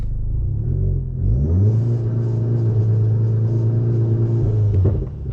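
Stage 2 tuned MK7 VW GTI engine with an audible intake, a deep loud rumble that climbs in pitch as the car accelerates, holds a steady drone, then drops off briefly near the end, with no voices.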